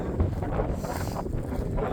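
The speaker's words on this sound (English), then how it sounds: "Picking up some wind here." Wind buffets a microphone clipped to a hat outdoors on a farm, a continuous loud low rumble with gusty fluctuations and no talking.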